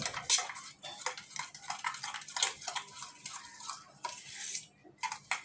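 A utensil whisks thick sour yogurt in a bowl, giving quick, uneven clinks and scrapes against the bowl at close range, fairly quiet, with brief pauses between strokes.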